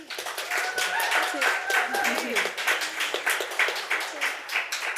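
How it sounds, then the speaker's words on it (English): An audience claps for three speakers at the end of a book event for disabled parents, a sustained round of hand claps with voices and cheering mixed in over it. "I'd like everyone to give a round of applause for Jax, Shakira and Mandy"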